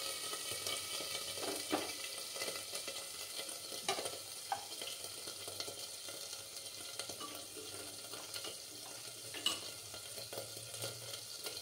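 Ginger paste frying in a pan while being stirred, a faint steady sizzle with soft scraping stir strokes and occasional light clinks, no talking.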